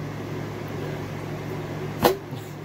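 A microwave oven hums steadily while heating a boxed chicken and dumpling meal, its low drone running throughout with a single short click or beep near the end.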